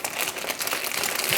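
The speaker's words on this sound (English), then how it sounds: "I put them into a plastic bag like this." Greasy, oil-covered small metal parts from a vintage Tamiya Bruiser RC truck dropped into a plastic bag, giving a steady close crinkling and rustling of plastic for over a second.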